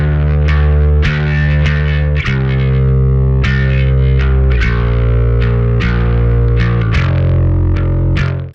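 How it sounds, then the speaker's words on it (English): Bass guitar in a split setup, with its high end sent through a distorted guitar amp, plays a driving riff of repeated picked notes, loud, gritty and continuous with a thick low end. "Let's turn our guitar amp on to get a little more action going on that high end"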